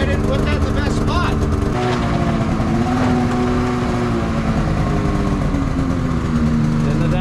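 Two-stroke engine of a Polaris snowmobile running in a garage, a loud buzzy droning note with a pitch rise partway through, steady and close, with people talking over it.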